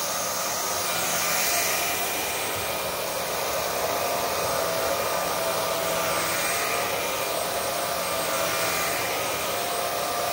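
Vaclab X11 Pro vacuum cleaner running steadily while picking up fake Christmas tree needles from carpet, a continuous loud whirring motor drone with slight swells, no talk over it.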